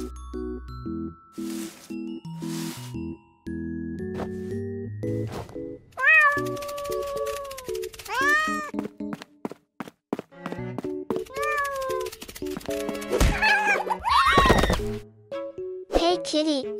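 Several cat meows, some sharp and rising, some drawn out, scattered among game-like chimes, thunks and musical tones, with a child-like voice speaking at times in between.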